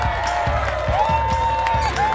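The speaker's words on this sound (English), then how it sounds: "Keep that applause going for the magnificent mask-wearing Mandy!" A crowd applauds and cheers for a woman in a comedic show, continuous dense clapping with whoops and shouts layered over music with a sustained melodic tone.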